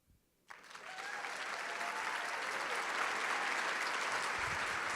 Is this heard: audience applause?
yes